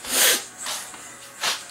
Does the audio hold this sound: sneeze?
yes